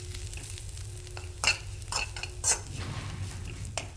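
Ground masala and curry leaves stirred in a hot pan for samosa filling, heard as a low steady sizzle broken by a few scraping strokes of a spoon against the pan.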